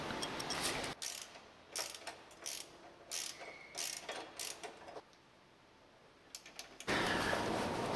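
A ratchet clicks in quick bursts while tightening a 13mm nut on an inner support bracket of a Honda CTX700N motorcycle. Several short runs of ratcheting are separated by brief pauses, close and clear with no talking.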